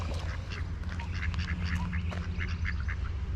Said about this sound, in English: Here's some ducks